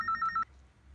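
A telephone ringing in a home, a bright electronic ring pulsing in three quick bursts over about half a second, then stopping, leaving faint room noise.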